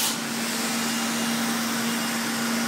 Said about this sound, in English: we'll start the blower dryer unit as well